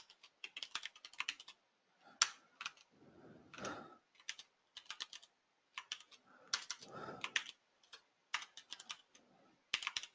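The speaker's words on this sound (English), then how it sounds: "So we're going to type some stuff into our plain text editor." Typing on a computer keyboard into a plain text editor, with bursts of quiet, close key clicks in irregular runs separated by short pauses.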